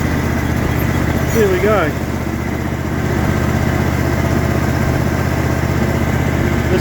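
A broken ride-on lawn mower with a misaligned front left wheel drives along, its engine a steady close drone throughout, with someone speaking briefly over it.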